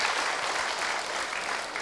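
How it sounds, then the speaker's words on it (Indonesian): A crowd at a religious talk claps steadily in dense, even applause, loud and close throughout. "Tepuk tangan untuk Ustadz Ecep ibu ya."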